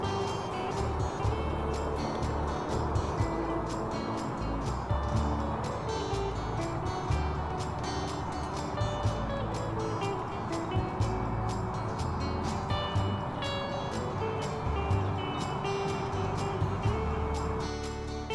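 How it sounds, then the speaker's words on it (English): Road traffic noise from the A449 near Lock 10 in Worcester, heard from the canal towpath as a steady, dense roar of passing vehicles that never lets up. "the sound of cathedral bells has been replaced by traffic noise from the A449"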